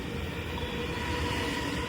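A Mumbai local train runs along the track with a continuous broad rumble and rattle, steady and fairly close, as heard from aboard or beside it near Tilak Nagar.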